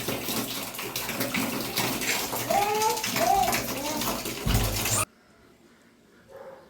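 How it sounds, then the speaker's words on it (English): Water drains out of an electric geyser during a home service, a steady splashing gush that ends abruptly, while people talk over it. "The geyser water is coming outside."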